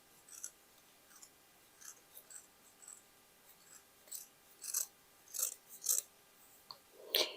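Scissors snip through old denim jeans fabric to cut a larger hood, a series of close, crisp cutting crunches that grow louder and more frequent toward the end over a quiet background.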